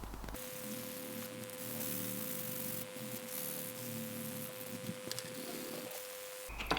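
A Ford Sapphire RS Cosworth front end panel hand sanded before lacquer, a quiet steady rubbing hiss under a faint constant hum, light and even throughout with a brief knock at the end.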